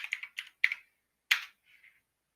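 Keys tapped on a computer keyboard entering a PIN, a quick burst of several close, crisp clicks followed by a single firmer press for Enter, then a couple of faint trailing taps.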